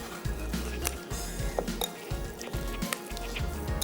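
Meat being stirred and mixed in a hot karahi pan for fajita karahi, giving a steady sizzle of frying with repeated scraping and clinks of a utensil against the metal, close and continuous.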